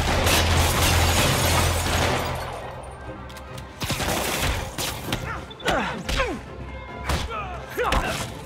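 Gunfire rings out in Marvel's Spider-Man Remastered, repeated sharp shots and thuds over a dense, loud game soundscape with shouting voices nearby.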